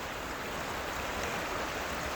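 A clear stream tumbles down a mountainside under a light drizzle, giving a steady, unbroken wash of water noise at a constant moderate level, with no talking.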